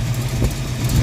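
A Foxbody Mustang V8 with an exhaust leak idles roughly up close, a loud, uneven low rumble with pulsing throb filling the brief moment, no speech over it.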